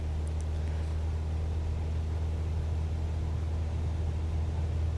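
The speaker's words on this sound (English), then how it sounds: "So I'm going to remove the parking brakes and then increase throttling." An aircraft engine in Microsoft Flight Simulator drones as a steady, loud low rumble while the throttle is opened up for takeoff, with no voices present.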